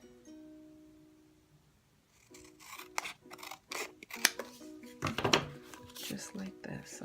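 Scissors snip through a paper card panel for a Stampin' Up waterfall card, giving a run of crisp, close cuts in quick succession that grow louder toward the end, with quiet, sparse room sound before the cutting starts.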